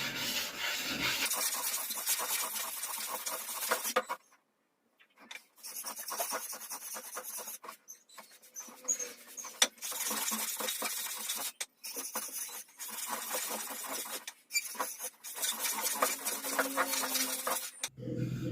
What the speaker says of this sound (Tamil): இப்போ இந்த ஒளியை தீட்டியாச்சு